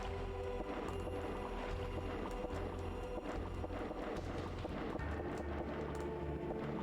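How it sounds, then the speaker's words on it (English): Knocking on a wall with water at fist height in a PlayStation demo-disc video game, producing dull, repeated thuds over a constant watery wash, with no talking. "Oh, that's just water knocking in general."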